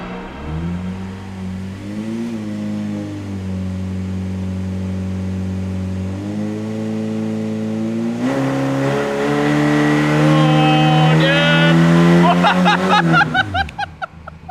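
A PT Cruiser engine roars under load on a dyno with nitrous, holding steady, then rising sharply to a loud high-rev scream before cutting off abruptly.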